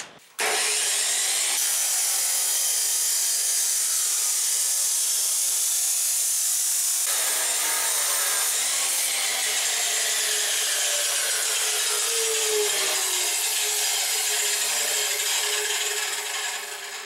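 Cutting exhaust pipe during a performance exhaust install on a fourth-generation Ford Mustang GT: a continuous rasping saw noise, loud and close, steady for the whole stretch with slight shifts in pitch.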